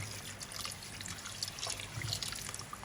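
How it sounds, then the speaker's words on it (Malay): Brief trickle of water being poured into a cooking pot of chicken, a light bubbling splash lasting a few seconds with no talking. "Masukkan sedikit air lagi."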